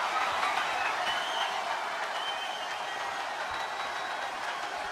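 A virtual arena crowd in the WWE 2K24 wrestling game roars steadily during an ambulance match, a faint, even wash of cheering with no distinct voices.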